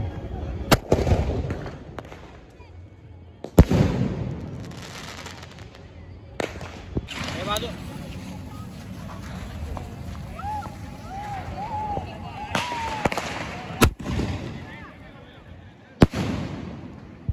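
Diwali sky-shot fireworks going off outdoors at night, with several sharp cracking bursts spread unevenly between rumbling, crackling stretches and whistling rises, while people talk nearby.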